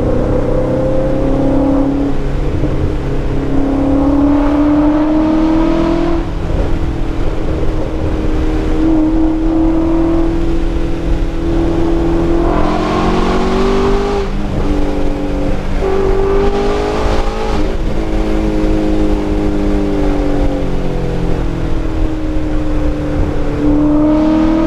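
Either a BMW E92 M3 or a Shelby GT350 accelerates hard on a drive, its engine note climbing through repeated rising sweeps between gear changes, loud and close from inside the car.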